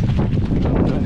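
Strong wind gusting across a microphone in wet, rainy weather during the Lakeland 100 mountain ultramarathon near Coniston, a steady loud low roar with buffeting swells throughout.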